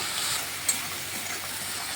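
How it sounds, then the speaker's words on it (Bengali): Spice paste sautéed and stirred in oil for a vegetarian dish gives a continuous close sizzle with a soft scrape or tap of stirring, without any talking. "এখন ভালোভাবে মশলাটাকে কষিয়ে নিচ্ছি।"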